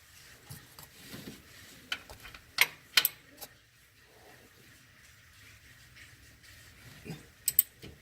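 Wrench tightening the oil drain plug on a 2006 Mazda 3 2.3L, heard as a few sharp metallic clicks and ratchet ticks scattered among quiet garage ambience, faint and close.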